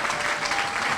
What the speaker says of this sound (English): I want to give a round of applause for my in-laws